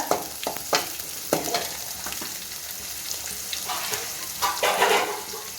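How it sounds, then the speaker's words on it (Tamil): Onions sizzling and frying in a hot pan for a Tamil sour-greens (pulicha keerai) dish, with scattered crackles and occasional stirring scrapes over a steady hiss. "வெங்காயம் நான் பொடியாக கட் பண்ணி வச்சு வச்சுருக்கேங்க இது நல்லா வதங்கட்டுங்க"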